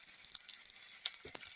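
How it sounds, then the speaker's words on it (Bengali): Dried chili and chopped onion fry in a hot pan with a steady, close sizzle, broken by a few brief stirring knocks and scrapes near the end. No voices. "শুকনো মরিচ ভেজে নেব, পেঁয়াজ কুচি একটু ভেজে নেব।"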